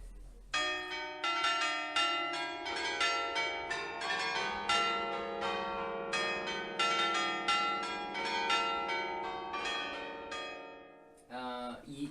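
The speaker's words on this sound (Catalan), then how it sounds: "a partir d'unes varetes de fusta que estiren un cable, toca les campanes petites" A carillon of small bells in Austria, sounded by wooden rods pulling a cable, rings out in quick overlapping melodic strikes with long ringing decay, loud and continuous, before the chimes fade and a brief noise ends the passage.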